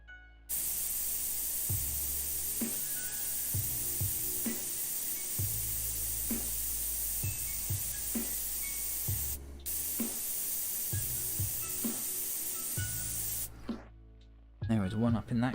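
An airbrush sprays paint in a long steady hiss, broken by short pauses and small pops where the trigger is worked, loud and close, with someone talking quietly over it.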